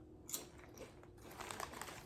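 Crisp crunching of West African potato chips being bitten and chewed up close, a few sharp bites followed by steady crackling mastication, with no talking.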